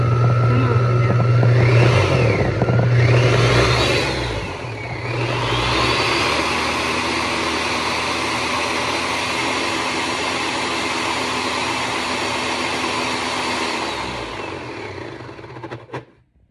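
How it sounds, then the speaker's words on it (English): A Ninja blender purees on manual with a loud, close whirring roar that rises and falls in pitch at first, then holds steady until it cuts off near the end. "I haven't used my Ninja in a little bit. Don't want to do a smoothie. Let's do manual. And it's loud."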